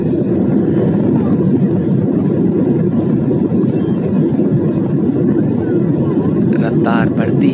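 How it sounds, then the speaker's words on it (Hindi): A loud, steady jet engine roar from an AirAsia airliner's takeoff roll dominates throughout, a constant low rumble as if from inside a cabin, with a brief faint tone near the end. "काफ़ी साउंड इंजन का बहुत ज़ोरदार आता है और ये फिर उसके बाद टेक ऑफ करती है"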